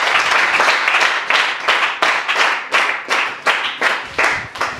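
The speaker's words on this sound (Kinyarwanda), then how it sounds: "reka ibyo bintu tubikomere amashyi menshi cyane" An audience claps enthusiastically, a dense wash of applause that pulses in rhythmic surges as the crowd falls into a roughly steady clapping beat, loud and close throughout.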